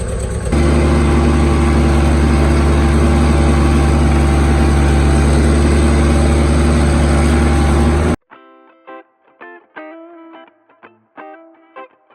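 A tractor engine runs loud and close with a steady, droning hum, then cuts off abruptly, leaving a few scattered clunks and tonal sounds.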